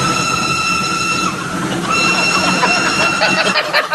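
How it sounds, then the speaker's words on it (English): Dense, overlapping quacking from many ducks at once, loud and close, a noisy jumble of calls. "As if by magic, I can create a big crowd of invisible ducks."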